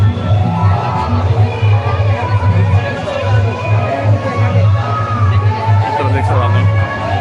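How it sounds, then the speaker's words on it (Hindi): A large crowd at a Ramlila festival gathering fills the air with dense, continuous chatter and a low rumbling hum, while someone talks nearby over the noise. "तो काफ़ी भीड़ है यहाँ"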